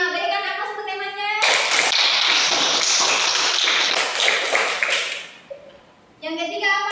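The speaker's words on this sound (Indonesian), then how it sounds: "Berikan aplaus untuk temannya." A classroom of children claps for a classmate, a dense, lively burst of applause lasting a few seconds that fades out, with a teacher's voice just before and after.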